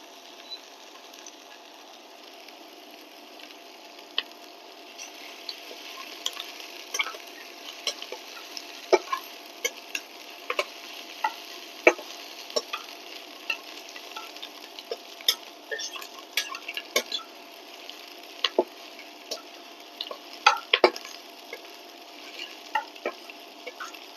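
Half a head of garlic browning in a frying pan, with a steady close sizzle under scattered sharp clicks and taps as a utensil stirs it; no voices.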